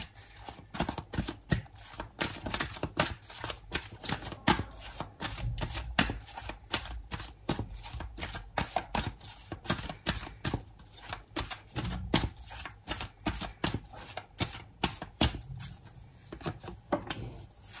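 Tarot cards are shuffled and drawn by hand in a rapid, continuous run of close riffling flicks and slides, with no speech over the sound.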